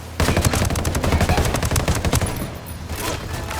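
Rapid automatic gunfire in the video game Ghost Recon Wildlands, a loud, dense stream of close shots that eases into scattered bursts toward the end, with no voices over it.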